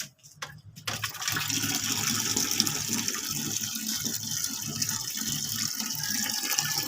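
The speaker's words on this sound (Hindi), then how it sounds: "तो मैं पानी भर लेती हूँ बाल्टी में।" Water runs from a tap into a bucket. A few clicks open it, then a steady, rushing gush continues unbroken at moderate loudness.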